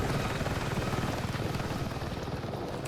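An Apache attack helicopter in the video game Battlefield 6 gives off a steady low rotor thump with rapid rhythmic blade chop and a constant engine whine, loud and close, with no talk over it.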